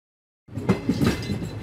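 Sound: train running on rails

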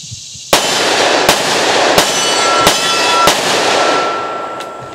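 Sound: gunshots from Smith & Wesson M&P Shield .45 ACP pistol, Double Tap hollow points

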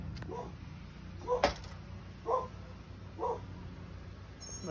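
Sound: dog barking next door

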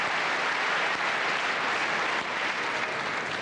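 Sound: applause for orchestra

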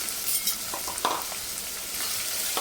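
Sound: chopped onions frying in pan with bay leaf and cloves

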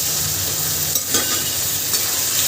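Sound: potatoes and pointed gourd being sautéed with spices in a pan

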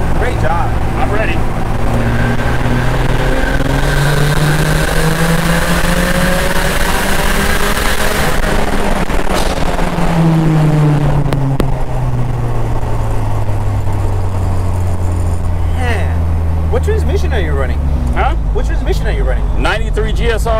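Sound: 450 HP 1990 Honda Civic EF engine revving, accelerating

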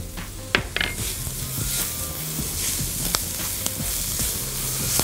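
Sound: garlic sizzling in pan with basmati rice and turmeric

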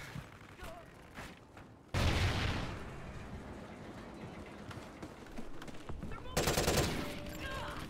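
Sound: gunfire in Call of Duty Ghosts video game

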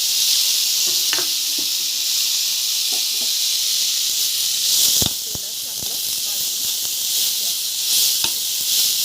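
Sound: sprouted moth beans (matki) frying in oil in a kadhai

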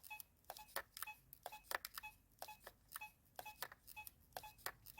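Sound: metal detector repeating clean tone

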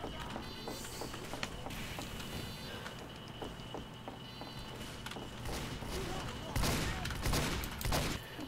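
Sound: gunfire in video game Team Fortress 2

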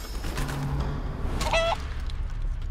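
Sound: chicken clucking in video game Divinity: Original Sin 2

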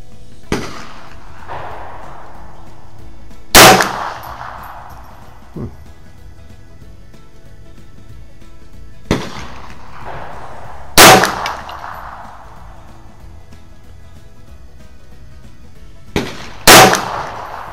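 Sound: pistol shots fired at target

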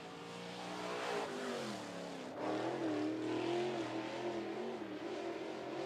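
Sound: crate late model race car on speedway qualifying lap

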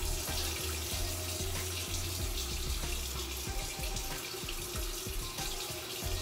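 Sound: running water while washing hair

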